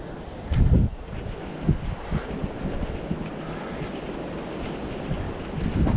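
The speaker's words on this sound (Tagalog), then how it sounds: "Lakas ng hangin." Strong wind in Sylmar roars steadily against the microphone during a window renovation, with heavier buffeting gusts rising and falling throughout. No one speaks.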